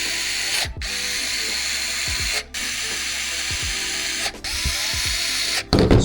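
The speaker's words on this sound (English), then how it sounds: "we'll go ahead and use a screwdriver to tighten them down real fast" Cordless electric screwdriver drives screws into an electric scooter, a 72V upgraded Razor, in several short whirring bursts with brief pauses between them, close and fairly loud, ending with a sharper clatter.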